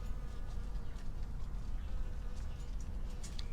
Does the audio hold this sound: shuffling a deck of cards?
no